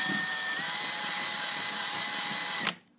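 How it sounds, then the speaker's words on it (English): A 1/4 inch power drill whines steadily at high speed, close and continuous, then cuts off abruptly at the end. "I'm using a 1/4 inch drill to match that"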